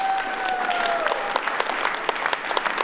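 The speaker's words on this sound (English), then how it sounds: "we want to give a round of applause to ECDI for their support on this" Audience applause at a Cleveland business accelerator competition, a short burst of scattered, moderately loud claps from a crowd, with a faint sustained tone fading early on and no talking.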